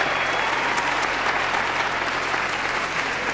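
An audience at a 1998 fall gospel concert claps in a dense, steady burst of applause that fills the hall for the whole stretch, with faint crowd murmur underneath.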